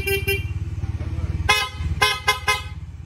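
Pia horn fitted to a Bajaj Dominar motorcycle under test, sounding as a few short, sharp honks in quick succession over a low engine idle.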